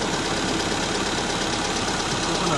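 A repaired car engine idles steadily with a constant broadband rumble and faint rhythmic knocking, close up and unbroken, with no talk over it.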